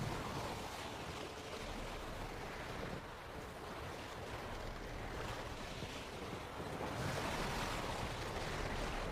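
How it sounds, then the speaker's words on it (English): In Witcher 3, a sail flutters on a boat at sea, heard as a steady windy rush mixed with waves and surf throughout, with no voices. "Sail's fluttering."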